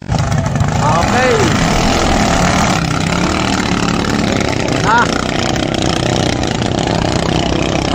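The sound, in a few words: misfiring engine of racing boat Habitat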